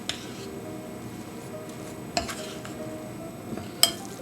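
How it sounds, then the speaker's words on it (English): Breadcrumbs are stirred into a kale ball mixture in a bowl, giving soft close scraping and squishing with a few sharper clicks of the utensil against the dish. "I'm going to mix this around and see what I think."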